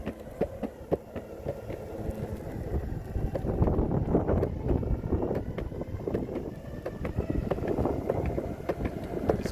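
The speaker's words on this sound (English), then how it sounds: "It's very windy today" Strong wind beside a pond in Colorado Springs, gusty buffeting roar with irregular microphone thumps and rustle, swelling louder midway and staying rough and close throughout.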